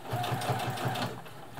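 A Brother Extra Tough sewing machine stitches steadily at close range, its needle mechanism giving a fast, even mechanical chatter with a faint hum underneath and no talking.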